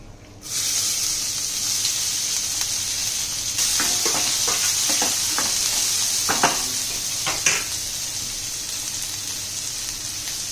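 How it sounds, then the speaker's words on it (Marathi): Curry leaves and chopped onions drop into hot oil for moong dal kanda. A loud sizzle bursts in after a quiet start, swells again partway through, and carries light clattering stirs against the pan. "कढीपत्ता घालायचा, हे 2 कांदे मी मोठे कापून घेतलेले"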